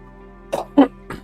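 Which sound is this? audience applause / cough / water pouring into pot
cough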